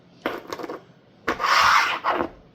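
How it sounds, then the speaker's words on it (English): Grease being packed by hand into the ball bearings of a 1937 Shelby police bicycle wheel; two short close rubbing, scraping passes, the second longer and louder, with no talk. "You're trying to get grease in there in between all the bearings inside here."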